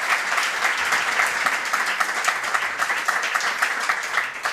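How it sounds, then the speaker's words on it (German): Sustained applause from a live podcast audience at a Berlin evening show, dense steady clapping filling the room without pause from start to finish. "Applaus."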